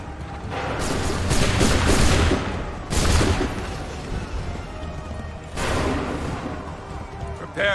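Musket volleys crack and boom in a battle scene from the video game Assassin's Creed III Remastered, several loud bursts with rumbling echoes, over battlefield noise and commanding voices.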